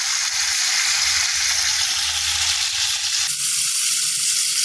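Spiced water hits fried masala in a pan for a tangra fish chui jhal curry, giving a loud, steady hiss of sizzling that shifts in tone near the end, with no voices.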